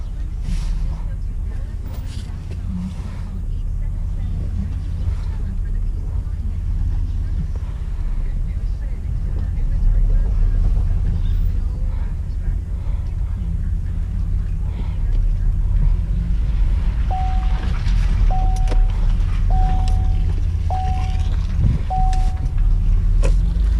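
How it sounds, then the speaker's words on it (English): A 2006 Chevy Impala with the 3.9L engine pulls out on a test drive, its engine and road noise forming a steady low rumble throughout, with a person talking over it at times. "now let's take it for a test drive"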